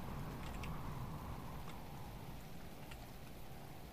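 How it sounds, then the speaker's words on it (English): Steady rain falling in the survival video game Subsistence, a continuous broadband hiss at even, moderate loudness throughout, with a couple of faint clicks and no voices. "Because it's a whole lot of rain."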